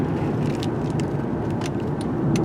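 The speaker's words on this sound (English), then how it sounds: "I'm driving up to where Hayden is airsofting" A car drives along Finning Mill Road with steady, rumbling road and engine noise from inside the vehicle, continuous and fairly loud throughout.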